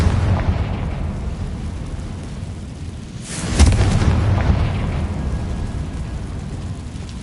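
A Confringo blasting curse explodes in Hogwarts Legacy. One sharp blast hits at mid-clip over a steady rumbling background, then fades into a low roar.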